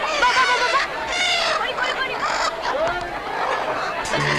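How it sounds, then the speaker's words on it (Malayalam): Excited clucking and squawking of chickens, close and busy, with bird calls overlapping throughout. "അയ്യോ എന്റെ കോഴികള്"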